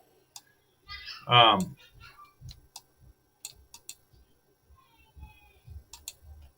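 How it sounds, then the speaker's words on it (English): Computer mouse clicking while navigating a 3D scene in CoSpaces, with sharp scattered clicks heard near and moderately loud, alongside a person talking. "So you click off and then click"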